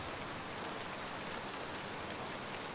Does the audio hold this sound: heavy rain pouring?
yes